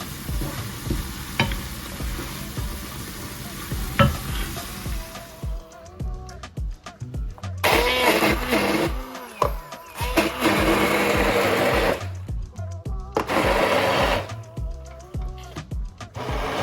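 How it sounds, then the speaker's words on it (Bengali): An electric kitchen blender whirs through food in several loud, motor-driven bursts separated by short pauses, with some stirring and clattering between runs. "এখন ব্লেন্ডারে ব্লেন্ড করে ফেলবো।"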